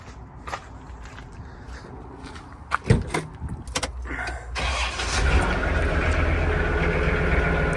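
A tractor engine starts after footsteps, keys jangling and a door being handled, then settles into a steady close idle for the last few seconds.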